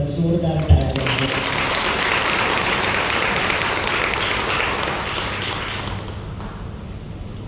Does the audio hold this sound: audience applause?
yes